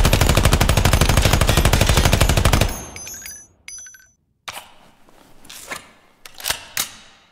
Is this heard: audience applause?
no